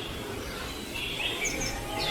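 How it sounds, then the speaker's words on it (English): Birds chirp in a humid zoo tropical house at Chester Zoo, where some fly free and others sit in cages. A few faint, high tweets come through a steady background murmur of the enclosure. "There's a few free flying birds kicking about, and then up here there's some caged birds."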